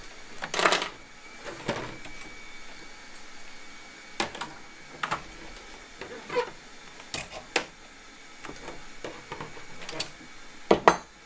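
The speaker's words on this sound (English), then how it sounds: "and I'll knit four more rows" Carriage of a knitting machine is pushed back and forth across rows of a buttonhole band, making sharp clattering sweeps every second or two over a quiet room, with no speech.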